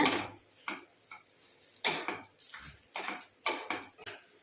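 A spoon scrapes and clinks against a pan while scrambled eggs are mixed into ragi semiya, giving a series of sharp, irregular metallic taps and scrapes, fairly close and fairly quiet, with no talking.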